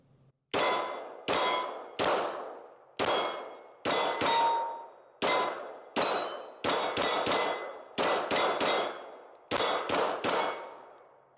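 Stoeger STR-9F 9mm pistol emptying a 17-round magazine outdoors at a range: loud, sharp reports with ringing decay, fired in uneven bursts of single and paired shots, some quick doubles.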